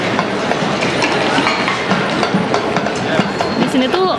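A train rumbles along an elevated railway overhead in Berlin, steady loud clickety-clack of wheels heard from below the tracks, with faint voices mixed in.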